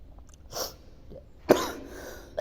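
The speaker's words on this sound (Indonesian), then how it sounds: "Batuk saya dari seminggu yang lalu" A single sharp cough from a week-long cough stands out, with a couple of softer throaty bursts around it and a faint click at the end.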